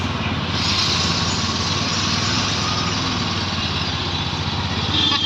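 An auto rickshaw engine runs steadily at night with a constant close drone and engine rumble, no voices over it.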